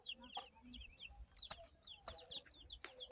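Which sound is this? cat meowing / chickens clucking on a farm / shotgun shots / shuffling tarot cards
chickens clucking on a farm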